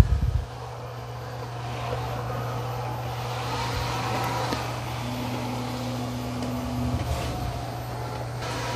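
Steady low motor drone and whir of a Roborock Qrevo Pro robot vacuum mopping a floor nearby, a constant hum with a second faint tone joining partway through, with no talk.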